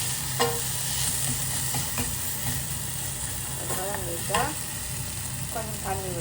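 Tomatoes sautéing with turmeric powder in a pan for a Tamil dosa dish, a steady soft sizzle with occasional stirring scrapes and clinks, close and continuous with no talk over it.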